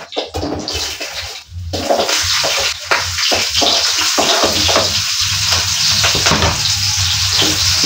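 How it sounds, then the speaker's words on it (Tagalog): Onion, ginger and chili sauté in hot oil left over from frying fish, giving a loud, steady sizzle with a few scrapes of stirring. Nobody speaks. "Bigisa na natin yung ating sibuyas sa kanyang luya. Saka itong sili."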